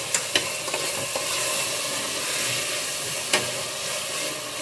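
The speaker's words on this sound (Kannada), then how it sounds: "ಈಗ ಟೊಮೊಟೊ ಹಾಕೊಳ್ಳೋಣ. ಟೊಮೊಟೊ ಚೆನ್ನಾಗಿ ಸಾಫ್ಟ್ ಆಗಬೇಕು. ಸೊ ಅಲ್ಲಿವರೆಗೂ ಸ್ವಲ್ಪ ಎಣ್ಣೆಲೆ ಫ್ರೈ ಮಾಡ್ಕೊಳ್ಳಿ." Chopped tomatoes fry in oil in a pan for tomato bath, a breakfast dish: a steady, close, bright sizzle throughout, broken by a few light clicks as they are stirred, with no talking.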